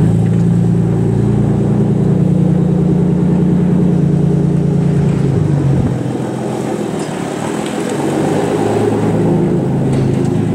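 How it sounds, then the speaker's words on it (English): A car drives nearby outdoors, a steady low engine rumble that eases and dips partway through before continuing. "There's a car over there."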